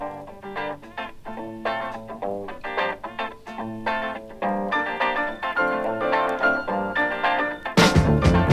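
Brazilian riff sampled from a 7-inch record, a busy looping musical phrase of plucked, rhythmic notes over low bass, moderately loud and alone, cut off by a brief bright burst at the end.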